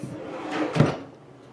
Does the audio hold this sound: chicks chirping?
no